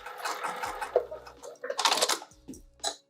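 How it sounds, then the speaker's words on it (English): A sewing machine stitches straight over nylon zipper teeth, a fast mechanical whirring run broken by short pauses, then a brief final burst near the end, close and fairly loud. "I'm just gonna sew right over the teeth"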